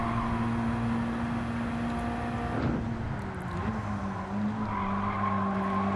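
A car brakes hard on a Nürburgring time trial in Gran Turismo 7. Over a loud, continuous engine drone, the tires squeal and skid for about a second, then the engine pulls away again.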